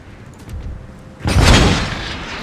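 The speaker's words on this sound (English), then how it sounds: "So the first artillery goes in." Artillery fire in the strategy game Empire: Total War, a heavy booming blast that swells suddenly after a quieter stretch of soft rumbling and then rolls on as a broad, sustained roar.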